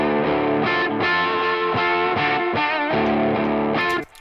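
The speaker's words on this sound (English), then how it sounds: "sends out to this auxiliary return also with an echo on it" Music in Logic Pro X played through an auxiliary send with an echo effect on the return, giving dense, continuous, distorted-sounding instrumental tones with repeating echoes, loud throughout before cutting off at the end.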